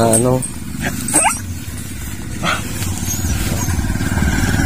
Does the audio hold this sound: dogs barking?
yes